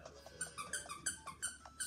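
A squeaky dog toy is squeezed repeatedly, giving a quick rhythmic run of high, pitched squeaks at close range with no talking.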